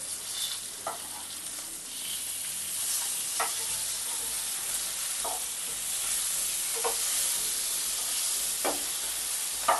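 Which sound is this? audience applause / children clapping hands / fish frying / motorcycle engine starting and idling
fish frying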